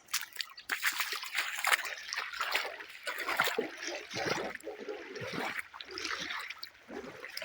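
Water trickles and sloshes in a stream in spring as someone walks through it in boots, a steady close wet patter with splashes throughout.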